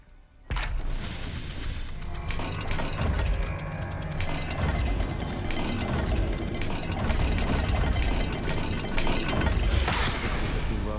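A dial puzzle mechanism in the video game Hogwarts Legacy turns with a dense, continuous ratcheting and clicking of gears, loud and close, starting abruptly after a brief pause and running steadily for about ten seconds.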